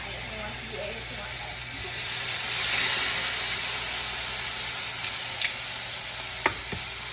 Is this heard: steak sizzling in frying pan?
yes